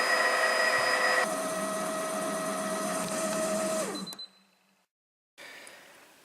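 A kitchen robot cooker mixes Christmas gingerbread cookie dough with a steady electric motor hum and whine that winds down and stops. After a short silence, a softer noise starts again.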